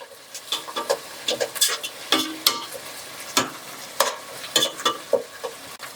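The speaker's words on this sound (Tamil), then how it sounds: "ஜிஜி பேஸ்ட்டை போட்டு நல்லா வதக்கணும்." Ginger garlic paste sautés in a pan for a festive biryani, a continuous sizzle under repeated close scraping strokes of a spatula stirring against the metal, with no speech.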